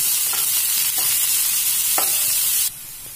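Shallots and curry leaves fry in hot oil with a loud, steady hiss, spoon scrapes punctuating it a few times before the sizzle suddenly drops off at the end.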